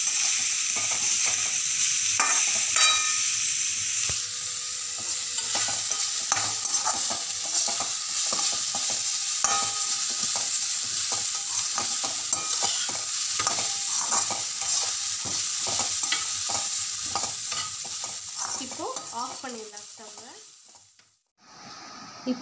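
A thelichi mixture with coconut frying in a pan while a spoon stirs it, giving a steady sizzle under repeated scraping strokes. The sound thins and fades out near the end.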